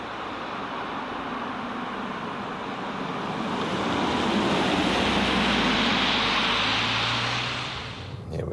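An Audi Q5 Sportback cruises at high speed on a German motorway, a broad steady roar of tyre and wind noise that swells slightly and then eases near the end.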